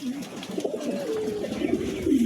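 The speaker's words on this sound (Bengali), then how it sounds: "কবুতর একদম ফ্রেশ আছে" Pigeons coo close by in low, rolling, throaty calls that swell toward the end, with a faint voice underneath.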